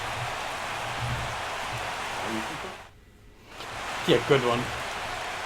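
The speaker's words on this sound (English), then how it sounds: "Ooh, a rain game." Rain falls during a night baseball game between the Phillies and Braves in MLB The Show 16 as a steady broadband hiss, briefly dropping out in a short silent gap before resuming under a man's brief speech.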